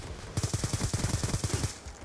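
Rapid automatic gunfire in the Black Ops 2 video game rattles off in a steady burst of about a dozen evenly spaced shots, moderately loud with no talk.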